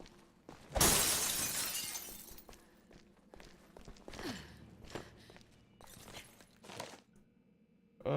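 Glass shattering in a video game, one loud, close crash with a long tinkling spray of shards, followed by quiet footsteps and faint scattered knocks.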